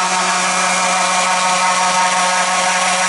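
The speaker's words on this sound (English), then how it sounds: "Because you're sanding a pan, it's a concave surface." A power sander works a concave pan surface for a street luge overhaul, a loud, steady whine with a constant hum, close and continuous with no talk.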